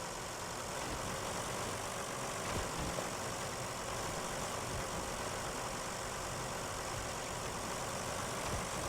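A large tractor engine in the SnowRunner video game, played with a mod on PS4, drones steadily as a dense, even rumble with no pauses or speech.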